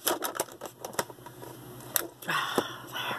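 Packaging being cut open by hand, giving a series of sharp clicking and snipping sounds at close range. These are followed by a denser ripping or scraping stretch, with no talking.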